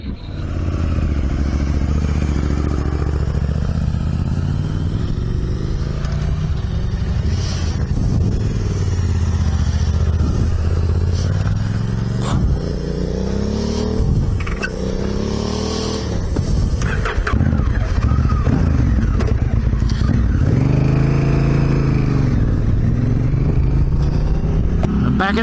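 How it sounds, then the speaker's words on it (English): Three big motorcycles ride a dusty track in the Gawler Ranges, engines droning loud and steady throughout with rising and falling revs and some clatter, likely recorded on the move with wind. "3 big bikes at the Gawler Ranges."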